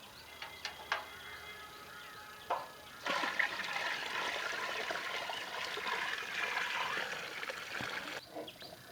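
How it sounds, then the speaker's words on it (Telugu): Water pours steadily into a 100-litre drum outdoors, a continuous rushing splash lasting several seconds after a few light knocks and taps at the start, with no talking over it. "అందులో 100 లీటర్లు నీళ్ళు పోయాలన్నా"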